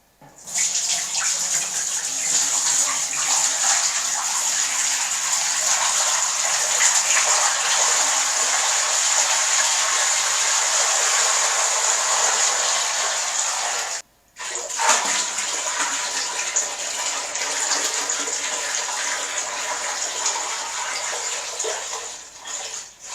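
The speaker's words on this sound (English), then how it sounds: "let's fill up the tank" Water pouring steadily into a new fish tank as it fills, a loud, continuous hissing gush with one brief break partway through.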